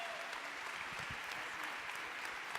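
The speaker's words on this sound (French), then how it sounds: "ça mérite vraiment tous vos applaudissements" An audience at a VivaTech talk claps steadily, a dense, even wash of applause that holds for a few seconds without voices.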